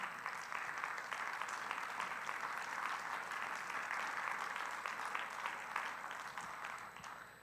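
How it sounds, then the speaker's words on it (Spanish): A church congregation claps for the Lord during a sermon, a steady wash of many hands at moderate distance lasting several seconds before tapering off slightly at the end. "Dale un fuerte aplauso al Señor."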